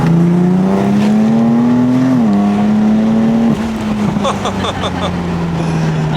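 BMW M4 pulling hard on an open coastal road, its engine note climbing through the gears with brief shift dips, loud and steady from inside the car.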